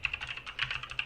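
Rapid keystrokes clatter on a computer keyboard as a search phrase is typed, a quick uneven run of close, light clicks lasting about a second with no talk.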